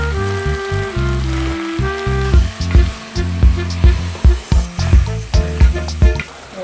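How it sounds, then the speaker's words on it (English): Beef and tomatoes simmering in a pan, a crackling sizzle with bursts of popping that grow busier and more rhythmic toward the end, close and fairly loud. "we are just going to add tomatoes and simmer it to just get a good unit"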